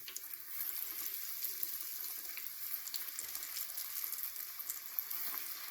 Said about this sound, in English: What I do to fry the fish, lay it away from you so you don't splash it up on you.